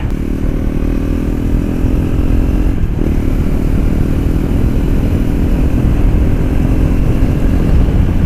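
A KTM 390 Duke fitted with an Akrapovic titanium slip-on exhaust runs loud and close, its steady rumbling exhaust note holding with a brief dip partway through.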